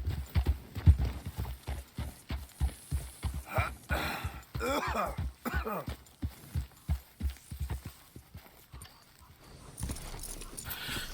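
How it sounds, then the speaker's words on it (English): Horse hooves clip-clop steadily and close by in the video game Red Dead Redemption 2, a brisk rhythmic trot that slows and fades near the end. "Get that horse in line, Arthur."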